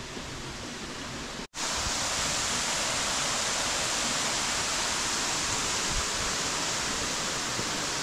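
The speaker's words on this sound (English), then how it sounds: "So we got first sight of the waterfall." Kursunlu waterfall near Antalya roars in steady pouring rain, a loud, continuous broadband rush of falling water that holds unbroken apart from one instant dropout early on.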